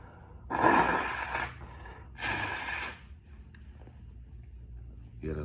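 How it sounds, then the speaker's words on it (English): Someone blows their nose in two forceful, breathy bursts about a second long each, close to the microphone, followed by quiet breathing and small rustles. "Let me blow my nose"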